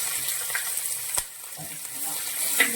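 Chopped garlic and ginger fry in hot oil in a pan, giving a steady bright sizzle with a few light stirring scrapes and clicks.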